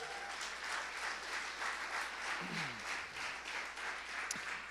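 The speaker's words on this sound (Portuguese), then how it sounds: "Dê um aplauso bem grande a Jesus." A church congregation applauds together in sustained, steady clapping that fills the room at moderate volume, with a brief low vocal sound partway through.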